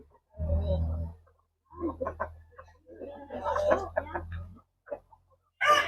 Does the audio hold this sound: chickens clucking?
yes